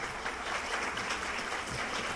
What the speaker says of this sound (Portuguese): para o pessoal receber ela com uma calorosa salva de palmas